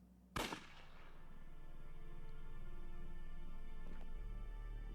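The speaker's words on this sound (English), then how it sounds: "Was that a gunshot?" A single sharp gunshot cracks out near the start in the video game Unavowed, then rings into a low sustained ambient hum with a faint click later.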